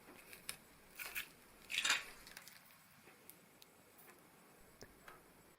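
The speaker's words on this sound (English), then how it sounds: "then we can cut the thread. Sorry, the elastic cord" Scissors snipping through elastic bracelet cord, a few faint, sharp clicks and one louder snip in a quiet room, close and without speech.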